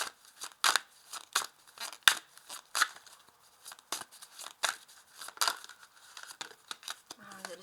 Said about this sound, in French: Je remue les cartes